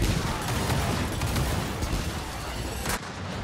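The Big Boy gun fires in Gears of War 4 on Xbox One X, a dense, continuous roar of heavy gunfire and blasts with a few sharper cracks, ending in a slight drop.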